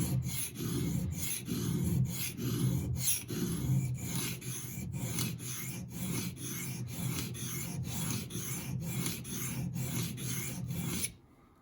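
Kitchen knife sharpened on a whetstone, a steady run of about twenty rhythmic rasping strokes up close, then ending abruptly.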